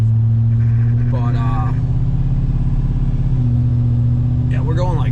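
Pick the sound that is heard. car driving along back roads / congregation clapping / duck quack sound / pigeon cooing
car driving along back roads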